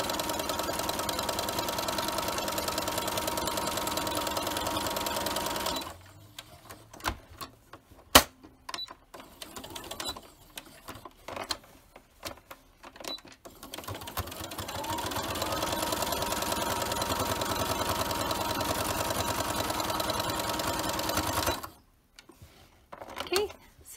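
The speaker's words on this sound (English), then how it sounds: "I'm just going to sew around the edges to make it look really nice." A sewing machine stitches around the edges of a reversible fabric mask with a nose wire and elastic, in two long rapid whirring runs separated by a quieter stretch of scattered clicks and handling noise.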